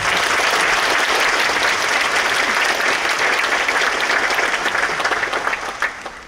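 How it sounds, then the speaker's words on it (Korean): Large audience applause at a mayoral inauguration ceremony in Yongin, South Korea: loud, steady, dense clapping that stays strong throughout and tapers slightly near the end. "큰 박수를 부탁드립니다."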